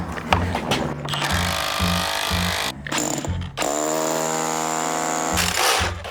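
Power tool driving and tightening anchor bolts into concrete, loud buzzing and hammering bursts broken by short pauses, up close with no talk.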